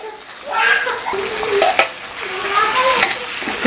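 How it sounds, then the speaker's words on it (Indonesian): Beef intestines, boiled beforehand, stir-fry in a pan with sambal goreng and a little ground ginger: a steady close sizzle with scraping stirs and a few sharper clatters, no talking. "Langsung tumis usus sapinya."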